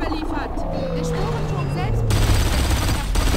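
Gunfire in the shooter video game Blacksite Area 51, a continuous loud burst of automatic fire that swells toward the end, mixed with engine-like game noise while someone talks excitedly in German.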